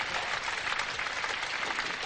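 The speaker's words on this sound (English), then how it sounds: "And a great hand for him from a crowd" A modest morning crowd at a 1978 Australia versus England first Test cricket match applauds a batsman, giving steady, dense clapping that holds at an even level throughout with no voices on top.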